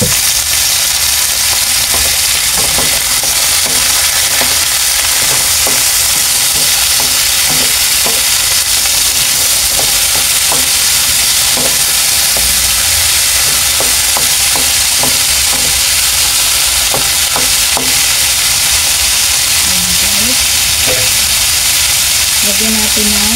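Chilies, carrots and potatoes sizzle and crackle steadily as they are stir-fried in a pan for beef caldereta, with a continuous loud frying hiss and frequent scraping stirs throughout.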